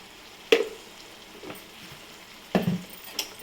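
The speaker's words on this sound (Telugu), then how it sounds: "ఇలా వేసిన తర్వాత బాగా కలుపుకోవాలండి." A spoon stirs prawn curry with garam masala in a village-style pan, giving a few soft scraping, squishy strokes spaced about a second or two apart, quiet and close, with a faint sizzle between them.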